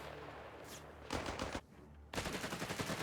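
Heavy machine gun fire from Company of Heroes 3, a 1v1 match, comes in two loud sustained bursts of rapid rattling shots separated by a brief lull.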